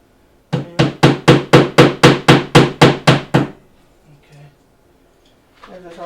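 A small multi-tool hammer tapping a screw into place, eleven sharp, evenly spaced strikes close up in a quick steady rhythm, followed by faint handling noise and a brief soft rustle.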